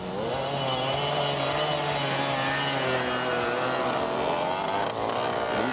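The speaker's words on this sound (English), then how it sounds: "That engine looks like an Osa, but I sort of doubt it." A racing motorcycle engine at a 1994 ice race in LaPorte drones steadily at high revs, a continuous buzzing whine heard at moderate distance with no talk over it.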